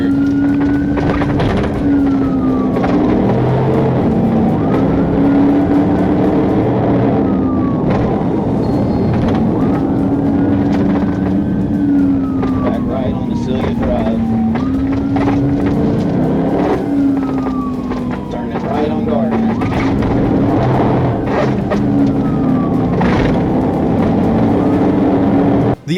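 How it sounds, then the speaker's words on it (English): A Nissan Altima races through a residential street during a police chase, its engine loud and close, revving up and down repeatedly over a continuous road roar. "The Altima tore through the residential area, repeatedly crossing lanes and running red lights on Floyd Road"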